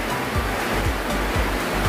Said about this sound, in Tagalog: So ngayon, kumukulo na ang ating tubig.